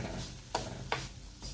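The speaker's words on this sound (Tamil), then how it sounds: "நல்லா வந்து நெய்யிலே உதிரி உதிரியாக வர அளவுக்கு வந்து நம்ம ரவையை இதில் வறுத்து எடுத்துக்கணும்" Rava semolina fries in ghee over a low flame, a soft faint sizzle broken by a few scraping stirs of a spoon across the pan.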